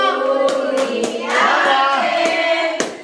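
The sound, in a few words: hand clapping at birthday party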